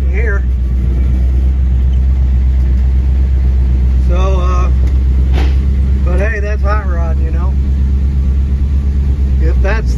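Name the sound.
Chevy van engine running with deep noise from engine bottom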